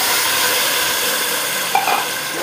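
Beef pieces sautéing in a pot for Filipino beef nilaga, a loud steady sizzle and frying hiss with a few stirring clatters near the end, close with no talk.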